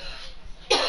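A person coughs once, a single loud burst near the mic, right after a stretch of quiet room tone.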